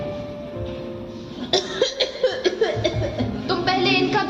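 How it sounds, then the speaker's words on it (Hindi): An elderly mother coughs repeatedly during a school annual day stage play, a string of sharp, hacking bursts heard fairly close after a quieter stretch of stage background. "तुम्हारी माँ दिन भर खांसती रहती है।"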